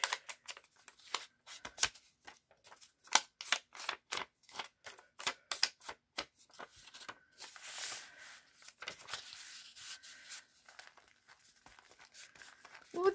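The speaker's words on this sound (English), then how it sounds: "I'm gonna cut off all the little sparkles" Scissors snip through paper while a journal is trimmed and embellished, a run of quick close crisp cuts, dense at first and then sparser with soft paper rustling, and no talking.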